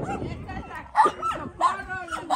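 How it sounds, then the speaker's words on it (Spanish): A puppy at a dog shelter gives short yips and whimpering cries in bursts, close by, while people talk warmly over and around it. "¡Ay, este cachorro!"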